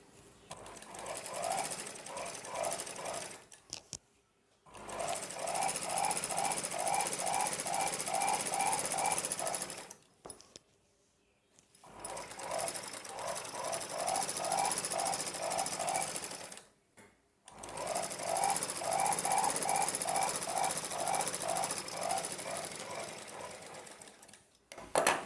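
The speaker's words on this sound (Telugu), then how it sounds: "ఇప్పుడు మనం స్ట్రైట్గా ఒక కుట్టు వేసేసుకుందాము." A sewing machine running a straight stitch on a blouse: three long bursts of rapid, even mechanical chatter separated by short pauses, close and alone.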